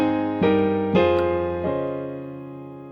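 Piano playing the opening phrase of a song: a few sustained chords struck about half a second apart, ringing out and slowly fading, solo with no talking.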